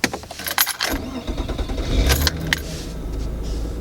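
A naturally aspirated car started with its key: keys jangle close up, the ignition clicks, then the engine cranks and catches into a steady idle that continues to the end.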